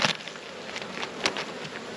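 Honeybees buzz around colourful backyard hives in an Australian beekeeping setting, a close, continuous insect drone with brief louder passes as individual bees fly near.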